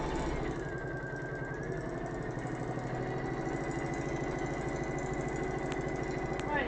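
A machine stitch sewn on a fabric pouch, a steady motor hum with a rapid repetitive mechanical clatter running close and evenly throughout.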